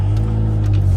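Lowered BMW E46 M3 engine driving on the road with the windows down, a loud, low steady drone heard from inside the car during a brief moment without talk.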